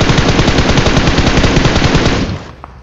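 Sustained automatic spray fire from a machine gun in BGMI (Battlegrounds Mobile India), loud, rapid and continuous for over two seconds before cutting off abruptly into near silence.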